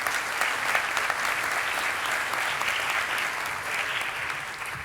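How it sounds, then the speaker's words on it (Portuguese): An auditorium audience claps steadily for about five seconds, a dense and even wash of applause that fades slightly toward the end. "Um aplauso."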